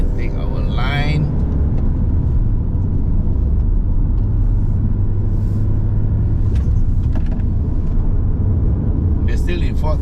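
A Kia Carnival seven-seater climbs the Genting hill road in fourth gear, its engine and road noise forming a loud, steady cabin rumble heard from inside, with occasional speech over it.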